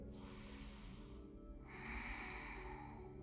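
A slow, deep breath is drawn through the nose while holding a seated yoga twist. It is soft and close, a faint airy rush that swells and then fades in a quiet room.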